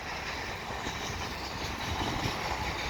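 A CSX freight train rolls past on a windy, cool day along a city street, giving a steady broadband rumble and rail noise throughout, with faint clatter and wind mixed in and no talk.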